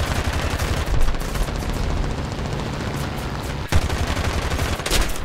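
Rapid, continuous 20 mm automatic cannon fire from a So.8000 Narval aircraft in a video game rattles on densely for several seconds, with a heavier bang near the end of the burst.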